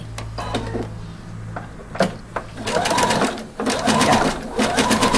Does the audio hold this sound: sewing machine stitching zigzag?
yes